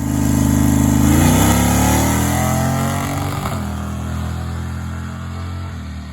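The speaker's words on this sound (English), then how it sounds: "I'll just show you real quick the video of the first pass with this truck on the nitrous." A Chevy C10 truck running a 100-shot of nitrous roars loud and close through a drag launch at the strip, the engine note climbing hard under acceleration and then cutting off abruptly partway through, with nobody talking.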